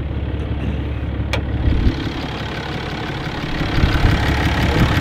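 Cummins diesel truck engine idling steadily up close with a low rumble and a light knocking texture, a single short metallic click near the start.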